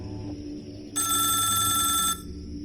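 A mobile phone rings loudly and steadily for about a second before falling away, with a low background hum underneath and no voices.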